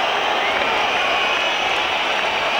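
Large stadium crowd at the 1992 Barcelona Olympics men's 10,000m final jeering and whistling at a lapped runner, a loud, steady wall of roaring voices with no break.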